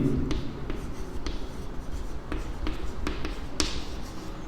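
Pen or marker writing out a polynomial math solution, with a steady close scratching texture broken by several sharp taps and strokes, heard alone without talk.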